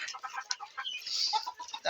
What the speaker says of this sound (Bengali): আপনারা দেখতে পাচ্ছেন এখানে আমার দেশি মুরগির বাচ্চা রয়েছে